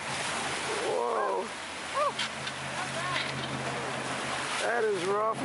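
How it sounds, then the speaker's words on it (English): Rough water slaps against a boat's hull and wind rushes past during a crossing in Alaska. The noise stays fairly quiet and steady while people whoop and exclaim over it. "That is rough water."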